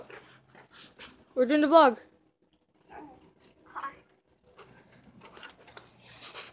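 Puppies whimper and yip in a short high burst, close by, with people chatting around them before and after.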